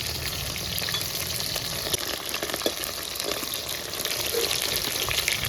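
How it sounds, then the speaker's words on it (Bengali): Chicken pieces frying in a pan, a dense, steady sizzle with bubbling oil and occasional faint clicks of a utensil, constant and close throughout. "সব মাংসগুলোকে আমি এইভাবে ভেজে নিচ্ছি"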